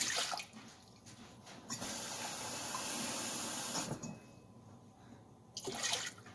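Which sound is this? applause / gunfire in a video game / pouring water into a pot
pouring water into a pot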